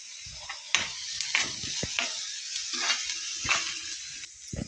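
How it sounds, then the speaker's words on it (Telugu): Onion and other ingredients for a potato egg curry fry in a pan, a faint sizzle broken by scattered stirring and scraping knocks, close and quiet. "ఇవన్నీ బాగా వేపుకోవాలి"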